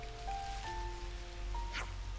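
Rain falling in Xenoblade Chronicles 3, a soft continuous hiss of rainfall under faint steady tonal game ambience, quiet and unbroken throughout, with no voices.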